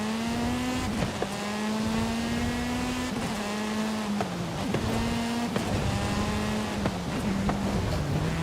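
A car drifts in Forza Horizon 5. A loud, steady engine drone holds a wavering pitch while the car slides, with faint scraping tire noise throughout.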